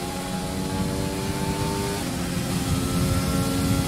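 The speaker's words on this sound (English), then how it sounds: "And the car sounds unbelievable too." A Formula 1 car engine in the F1 2020 video game drones at a steady high pitch, then shifts down and climbs again, continuous and fairly loud with no voices.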